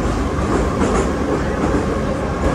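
A Tashkent metro train in Uzbekistan runs at speed, a loud continuous roar and rattle of wheels on rails, close and unbroken with no talk.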